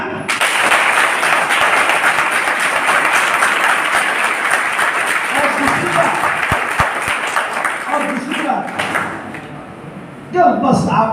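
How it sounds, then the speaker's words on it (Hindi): A college seminar audience claps loudly and steadily for around ten seconds, the applause thinning toward the end before a voice briefly cuts in. "उसके लिए एक बहुत शानदार तालियां।"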